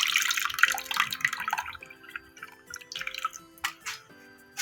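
Tamarind water pours and splashes into a cooking pot on the stove while a black pepper fish curry is being made, with wet, uneven trickles and drips over a faint steady tone in the background.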